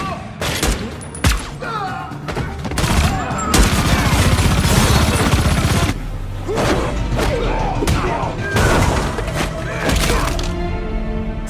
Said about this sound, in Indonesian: Nero masuk ke dalam dan langsung memberondong mereka dengan peluru.